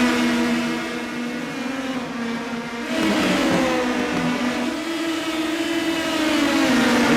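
Indy Pro 2000 race cars in iRacing at Indianapolis Raceway Park, loud continuous engine drone with a rising whine as cars accelerate and a second engine surging in midway, no talking.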